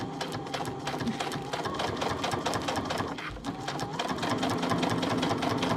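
A sewing machine stitches pleather in a steady, continuous run, its rapid needle chatter loud and close for the whole stretch with no pauses or talk.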